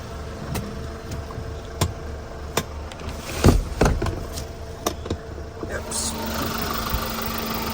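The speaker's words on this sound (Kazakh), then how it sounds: "Мына моторун караңыздар." Engine of a 2019 manual-transmission car idling steadily at close range, a low continuous hum with clicks and handling knocks over it and a few bursts of noise midway.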